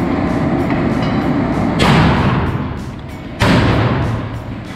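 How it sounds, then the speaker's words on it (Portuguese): Two heavy, booming blasts a couple of seconds apart from popcorn-puffing cannons in a factory, each a loud whooshing burst over a steady, loud industrial rumble. "a pipoca é estourada usando canhões"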